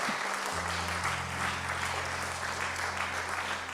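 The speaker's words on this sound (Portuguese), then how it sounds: "Dê um aplauso para o Senhor." A Pentecostal church congregation applauds in worship, a steady, fairly distant wash of clapping over a sustained low organ-like drone.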